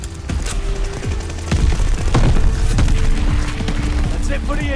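AS44 assault rifle fire in the shooter game Call of Duty Vanguard, rapid bursts of sharp shots with booming impacts, loud and close, while someone talks over the gameplay.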